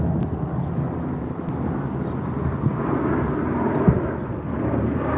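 A C-130 aircraft flies over a 75-acre wildfire near Los Lunas, giving a steady, broadband engine drone that holds at an even level with rumbling low end and a slight swell near the end, no talk.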